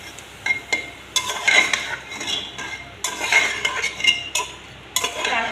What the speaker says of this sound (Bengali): অনবরত নাড়ব যাতে মশলার গন্ধ চলে যায়।